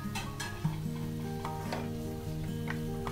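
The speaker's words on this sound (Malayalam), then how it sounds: "ഇനി ഈ മസാലകളൊക്കെ ഒന്ന് ചിക്കനിലും ഉരുളക്കിഴങ്ങിലും പിടിക്കുന്നത് വരെ ഒന്ന് വഴറ്റി കൊടുക്കാം" Cut chicken and potatoes sizzle in a pan with masala for a Kerala-style chicken curry. A steady frying hiss is broken by scraping stir strokes and light ticks, with a faint tonal hum underneath and no talking.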